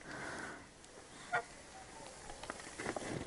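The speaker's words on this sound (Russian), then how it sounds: "Вот они гусики, ждут нас" Domestic incubator-raised geese honk a few times, one sharp call standing out midway, over steady outdoor background noise with no talking.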